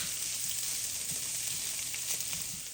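Pierogi with caramelized onions and bacon stirred in a hot pan, a steady close sizzle and frying hiss throughout with light scraping stir noises, fading slightly at the end.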